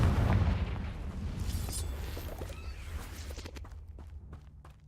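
A fiery Confringo spell blast in Hogwarts Legacy: a loud, booming burst at the start that fades into a rumbling tail, with a few lighter crackles and pops toward the end, no voices.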